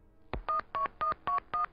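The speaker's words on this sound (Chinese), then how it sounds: "莫小鱼上咗车，俾姬可卿打咗个电话。" A telephone number is keyed in: six evenly spaced dialing tones, the first one short and the rest steady beeps, clear and close against a quiet background with no voices.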